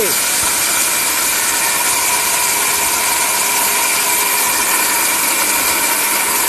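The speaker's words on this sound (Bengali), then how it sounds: "ব্লেন্ডার হইলো পাগলা, ব্লেন্ডার হলো পাগলা" A blender fitted with a steel bushing grinds a dry brick into powder, making a loud, harsh, continuous roar with hissing grit throughout and no pauses.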